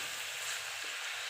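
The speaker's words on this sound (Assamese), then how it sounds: "এনেকৈ লৰাই অলপ ভাজি থাকিব লাগিব" Pork sizzles in an iron wok, a brief, dense and steady frying hiss heard close up with no talk.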